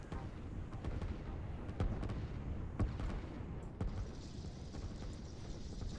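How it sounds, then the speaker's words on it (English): Buildings blowing up in the Line War real-time strategy game, heard as a steady rumbling bed of explosive blasts with several sharper booms standing out at irregular moments, moderately loud and with no voices. "I don't know how those buildings exploded."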